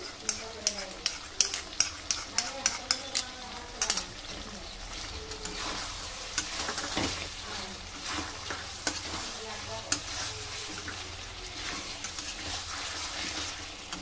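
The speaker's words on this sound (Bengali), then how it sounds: "দিয়ে ভালো করে কষিয়ে নেব" Chicken masala stir-fried with yogurt in a pan, a loud sizzle and frying hiss under repeated scraping and clinking stirs of a utensil against the pan, busiest in the first few seconds then settling into steady sizzling.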